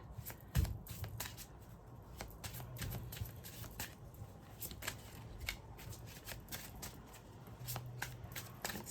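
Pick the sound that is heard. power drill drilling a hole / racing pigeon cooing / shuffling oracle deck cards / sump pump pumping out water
shuffling oracle deck cards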